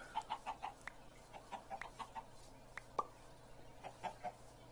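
Minecraft chickens in an FTB Sky Adventures world cluck softly in a scattered, uneven run of short bursts, faint and somewhat distant over a low steady hum.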